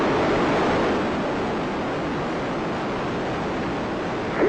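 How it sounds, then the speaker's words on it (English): Space Shuttle Discovery's solid rocket boosters ignite and lift off, a dense, steady roar of broadband rumble that holds loud and constant throughout with no voices. "Booster ignition and liftoff of Discovery"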